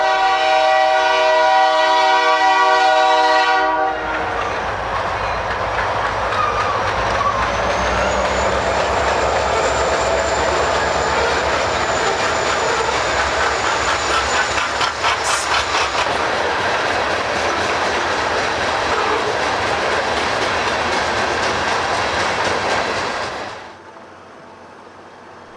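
A freight train hauled by two ex-Southern Pacific locomotives, 4245 and 4246, on the Hutchinson subdivision at about 25 mph: a loud horn blast opens, then a steady close rumble with clickety-clack of passing cars that cuts off near the end.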